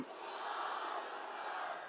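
Large political rally crowd roaring a chanted response to the Nara-e-Takbir slogan, a dense sustained wall of massed voices, loud and steady, with no single speaker standing out.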